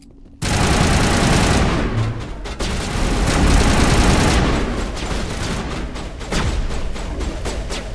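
Sustained burst of gunfire in the Mass Effect video game, loud and dense, rattling continuously for several seconds with booming impacts and brief dips, no talk.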